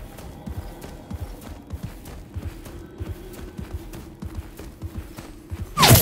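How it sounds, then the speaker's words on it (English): Horse hooves gallop in the video game Realm Royale, a quick repeated clip-clop rhythm over a low steady hum, ending in a sudden loud burst. "I ride upon a pale horse."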